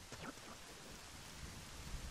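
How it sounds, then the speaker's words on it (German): Steady rain in the video game The Legend of Zelda: Majora's Mask, a soft, even hiss of falling drops with no music behind it, faint throughout. "Wow, es regnet und keine Musik."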